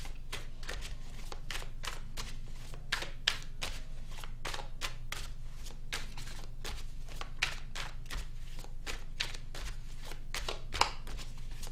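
A tarot deck is shuffled and handled continuously up close, giving a steady run of soft card riffles and slaps at an even pace, fairly quiet, with no talking.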